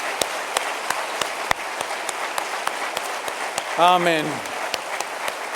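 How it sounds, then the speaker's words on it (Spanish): Congregation applauding during a Spanish-language church service, a steady wash of clapping with sharp individual claps, while a voice briefly speaks over it near the end. "Dele un último aplauso al Señor."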